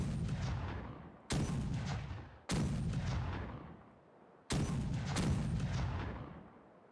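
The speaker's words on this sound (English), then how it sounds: "The left side, ready to fire!" A sailing ship's left-side cannons fire in the pirate game Caribbean Legend, four heavy booming volleys, each a sharp blast trailing into a long rumbling decay, loud and close with no talk.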